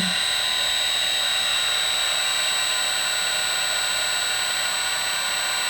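A CNC machine spindle runs at 2000 RPM, giving off a steady, loud, high-pitched whine over a constant mechanical hum that holds unbroken throughout, with no voices.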